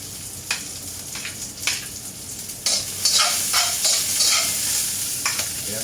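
Marinated chicken breast, added after ricado seasoning, sizzles steadily in a hot pan while being stirred, with louder bursts of frying and scraping strokes coming every second or so at close range.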